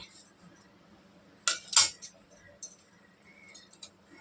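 Scissors cut through blouse cloth in a couple of quick, sharp snips close by, with faint quiet room sound around them.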